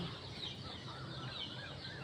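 Young chickens kept at home cluck softly and intermittently in the background, faint and somewhat distant over low ambient noise.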